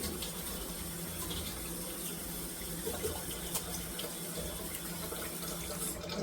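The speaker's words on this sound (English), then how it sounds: "So I'm doing an initial rinse to get anything out of there" Faint, steady running water pours from a tap to rinse a small batch of mulberries in a kitchen, a continuous soft splashing hiss with no talk.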